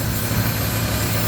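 A Ford engine idles close by with a loud, deep rumble from a modified exhaust, steady and unbroken for a moment with no voices.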